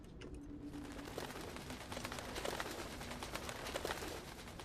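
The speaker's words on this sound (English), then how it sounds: "sounds like a bird. I guess there's a crow out there?" A bird calls with soft cooing, dove-like notes over a steady ambient bed in the game Crisol: Theater of Idols, with a faint rumble and scattered clicks beneath.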